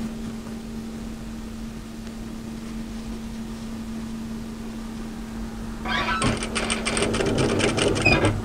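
Sewing machine back-tacking on apron fabric: a quiet steady hum at first, then a fast rattling stitch burst for the last couple of seconds, close and fairly loud, with no speech.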